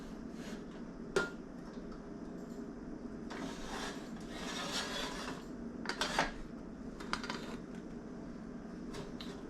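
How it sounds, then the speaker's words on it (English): A vintage 1940s West Bend Kwik Drip coffee maker's top pot being lifted off, a few sharp metallic clanks and scraping rubs spread over the clip against a quiet room background. "Alright, top pot coming off."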